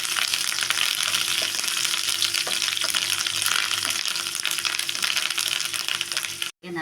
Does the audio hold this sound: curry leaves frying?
yes